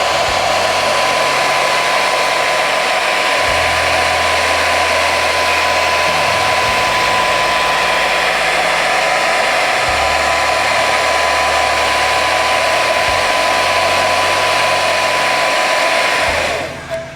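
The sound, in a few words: hairdryer heating wood grain vinyl on a dash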